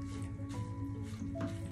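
Wet wool felt is pressed and soaked with water during felting, giving soft, close, repeated squishing with faint drips under a low steady hum.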